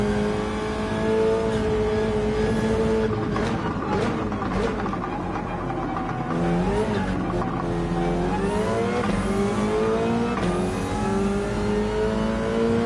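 A Porsche 911 race car engine in Gran Turismo 7 revs and accelerates through gears, its loud, steady harmonic whine rising and falling with shifts and throttle changes, with brief tire squeal on corners and no talk.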